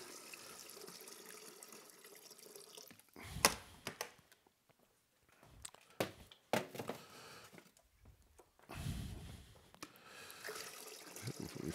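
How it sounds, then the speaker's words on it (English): Tap water pours into a Zojirushi hot water pot in uneven spells of splashing and gurgling, close and moderately loud, with quiet gaps between the pours. "Filling my Zojirushi hot water pot with water."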